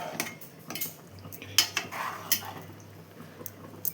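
A ladle stirs Telugu fish curry (chepa pulusu) in a pot, giving soft irregular metallic clinks and scrapes against a quiet room hiss.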